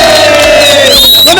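Loud crowd cheering and whooping at a street show event, with sustained shouts and a whistle-like tone over dense crowd noise throughout.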